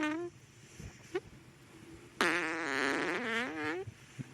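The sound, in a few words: played fart sound effect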